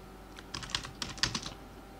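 A computer keyboard clatters as a short sentence is typed, a quick uneven run of crisp keystrokes lasting about a second, close and fairly quiet against a faint background hum.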